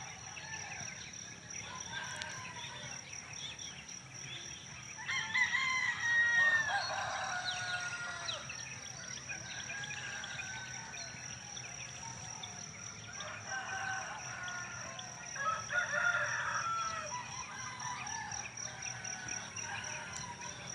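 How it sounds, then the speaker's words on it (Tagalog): Neighbourhood chickens and birds call intermittently at a distance over a steady background insect hum, with short bursts of chirping and clucking rising and falling through the outdoor scene. "Ayan po yung mga huni ng mga ibon, manok ng mga kapitbahay po."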